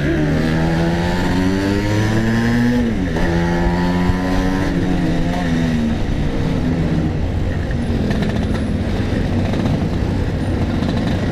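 Vespa motor scooter riding along with its engine note dropping and rising through shifts, then settling as it brakes; a steady, close, continuous putter with no talk.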